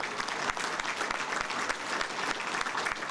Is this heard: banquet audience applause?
yes